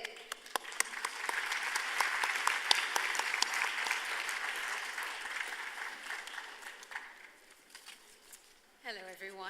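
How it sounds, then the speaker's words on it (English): Forum audience applauding as a speaker is welcomed to the stage, sustained crowd clapping that gradually thins out, then a voice begins speaking at the very end. "Please join me in a huge round of applause to welcome Ms."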